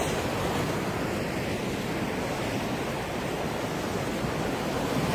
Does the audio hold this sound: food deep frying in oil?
no